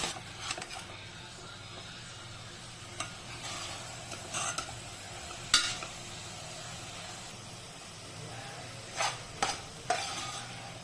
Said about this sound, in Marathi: आपण आता ह्याच्यात टोमॅटो घालून आता आपण हे चांगलं परतून घेऊया